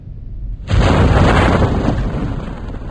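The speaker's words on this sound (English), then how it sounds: "Big explosion." Kerbal Space Program video game explosion, a sudden loud broadband boom that follows a near-silent moment and then rumbles on in a dense, sustained roar.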